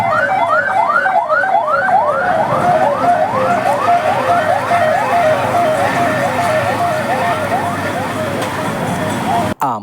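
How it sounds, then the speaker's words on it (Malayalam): An ambulance siren wails in a steady, rapidly repeating rising sweep, loud and close, running continuously from start to end with no break. "ആംബുലൻസിൻ്റെ സൈറൻ കേട്ട് അപകടമാണെന്ന് കരുതേണ്ട"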